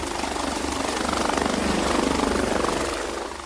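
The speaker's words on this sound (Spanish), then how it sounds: "Por casualidad, el helicóptero lo sobrevoló en el momento justo" A helicopter passes overhead, its rotor thudding in a steady rapid pulse with broad engine roar, loud and close throughout, swelling slightly in the middle before easing off at the end.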